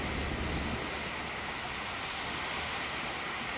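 Surf on a Gulf of Mexico beach at Port Aransas gives a constant broad wash of breaking waves, with some wind rumble against the microphone and no voices.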